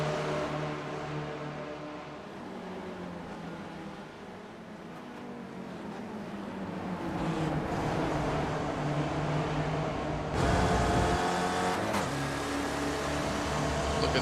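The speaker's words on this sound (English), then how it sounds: "As we see Naselli, the Alex Kart Racing Raptor car, trying to catch up to Duran, Iterate, and Burbagall" Race cars in the iRacing sim at Road America, with an SRF Weekend Warriors field including an Alex Kart Racing Raptor car, make a steady engine drone that rises in pitch and intensity toward the end as a car passes closer.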